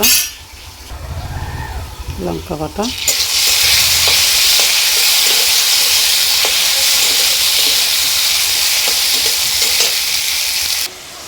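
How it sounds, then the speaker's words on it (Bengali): A loud burst of sizzling erupts as chili paste hits hot oil with fried potatoes, then a steady intense frying hiss continues for several seconds before cutting off. "আমি এখন এখানটা দিয়ে দিচ্ছি লঙ্কা বাটা"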